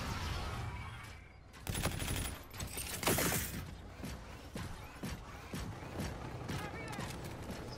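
Gunfire in a shooter video game, heard as scattered sharp shots and a few short bursts at moderate loudness, with uneven gaps between them.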